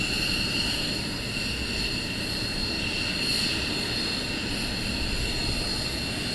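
Military jets taxiing back across the ramp at RAF Lakenheath after a surge sortie, giving a steady, loud, continuous engine roar and whine that holds unbroken through the whole stretch, with no voices.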